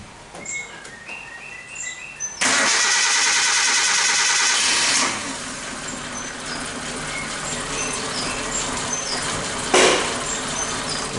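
A Suzuki Katana four-cylinder engine with one dead, black, crusted spark plug cranks and fires, then settles into a loud, steady idle. Birds chirp close by before and during the run.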